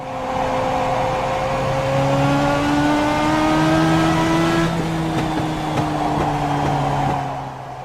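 Legends race car engines roar continuously in the iRacing video game, several cars droning at steady high revs. Their pitches shift slightly as they close up and pass, with no talk over them.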